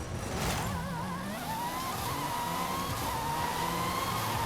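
A Chevrolet Camaro muscle car launches off the start line in the racing game Forza Horizon 5, its engine revving loudly and climbing in pitch as it pulls away. The roar is steady and close.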